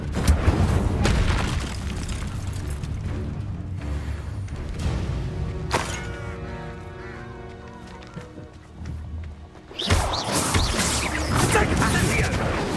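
The Incendio fire spell is cast repeatedly in Hogwarts Legacy, bursting with booming, crashing whooshes during a loud duel, mixed with music and spoken voices.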